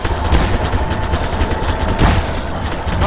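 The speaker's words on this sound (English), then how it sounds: "Somebody's dropping bombs again." Bombs dropping in the Garry's Mod video game, heard as a dense, loud, continuous barrage of blasts and rapid gunfire-like bangs, with a heavier burst near the end.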